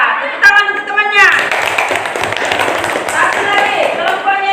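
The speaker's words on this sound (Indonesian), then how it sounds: "tepuk tangan untuk temannya" A classroom of students claps for a classmate after a presentation, a brief voice at the start giving way to a few seconds of close, busy, uneven clapping.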